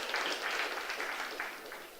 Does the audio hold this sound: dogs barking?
no